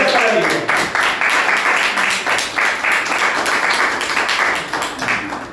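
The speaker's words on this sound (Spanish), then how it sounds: "Dale un aplauso" Rhythmic crowd clapping and applause at a church gathering, steady and fairly close, with a voice speaking over the clapping throughout.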